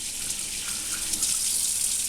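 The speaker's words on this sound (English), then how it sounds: "I'm washing them in the kitchen sink." Water runs from a kitchen sink tap while African violet cuttings are washed, a steady, even hiss and splash that continues without pause, with no talking.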